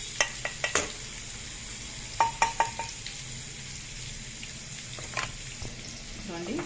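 Garlic frying in oil for gongura pickle, making a soft, steady sizzle under a series of sharp clinks and taps from a spoon or utensil. The taps come in small clusters spread across the scene, with a faint voice near the end.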